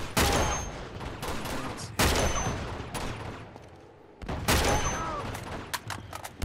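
Gunfire from a weapon in Uncharted 2: Among Thieves, a few loud, close bursts of shots separated by short pauses, with rumbling echoes and game ambience trailing off between them.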